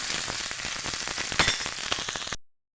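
Cumin seeds, asafoetida, and crushed green chilli and garlic sizzle and crackle in hot oil, a close, busy frying hiss that stops abruptly after about two seconds.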